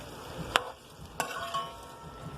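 Potatoes sauté quietly in a pan with oregano and tomato paste, a faint steady sizzle broken by two sharp knocks of a utensil against the pan.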